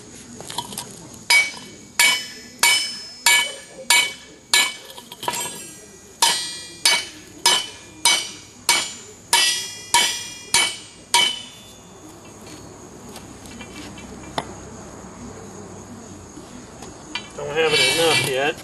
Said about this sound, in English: May have to get a bigger hammer.